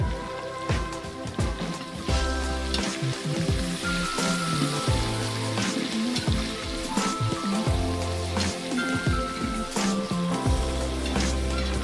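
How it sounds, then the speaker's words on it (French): Sliced onions frying in a pot with pork, a steady dense crackling sizzle that continues without pause, close and fairly loud. "je vais jeter à l'intérieur de la marmite. Je vais laisser dorer encore quelques minutes aussi."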